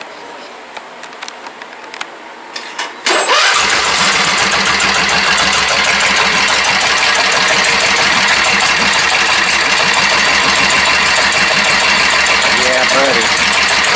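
A 670cc V-Twin Briggs & Stratton engine cranks and catches after some quiet handling noises, then settles into a loud, steady, close idle. A voice speaks briefly.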